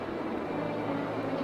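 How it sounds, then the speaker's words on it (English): A steady broadband drone from an airplane engine passing overhead, continuous and fairly loud with a low rumbling hum and no voices heard. "A plane."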